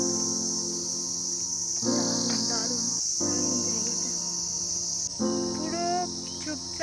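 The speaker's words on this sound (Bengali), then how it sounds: "মানে শোনো খালি এই কোনো একটা পোকার আওয়াজ।" Steady, high-pitched insect chirping fills a quiet pine forest at Sittong near Darjeeling, a continuous shrill drone that runs the whole time beneath soft, intermittent voices of people talking nearby.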